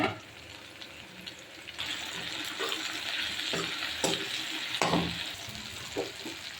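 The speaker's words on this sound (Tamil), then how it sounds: "கருணக்கிழங்கு எண்ணெயிலே நல்லா வதக்கிக்கலாம்" Elephant yam sautéing in oil makes a close sizzle with intermittent stirring scrapes and clicks, growing fuller after a quieter opening.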